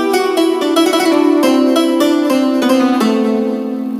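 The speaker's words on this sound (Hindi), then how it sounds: "आप सुन सकते हैं कि कितना खूबसूरत टोन है। ये VST के टोन्स हैं ऑडियो मॉड्यूल्स के" A keyboard plays a live VST audio-module tone, a bright sustained synth or piano-like patch with a short run of struck notes and chords ringing clearly on their own, fading slightly at the end.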